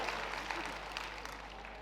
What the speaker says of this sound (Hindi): सामने जो बच्चे बैठे हैं उनसे चाहूंगा कि एक बार इन बच्चों के लिए जोरदार ताली बजाएं